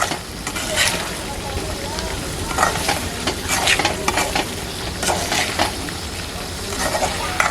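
Mutton chukka gravy sizzles steadily in a pan while a spoon scrapes and stirs it at an irregular rhythm, with people talking over the frying.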